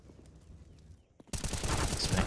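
CS:GO gunfire in a competitive match breaks out suddenly after a quiet stretch, a dense loud clatter of rapid shots under an excited commentator's voice.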